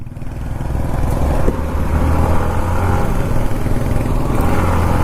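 A motorcycle accelerates with a loud, steady engine drone that stays close and continuous throughout, with no talking.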